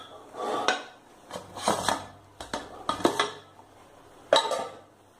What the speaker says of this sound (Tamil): ஒரு நான்ஸ்டிக் கரண்டி வச்சு எல்லா பக்கம் நல்லா கிளறி விடுங்க.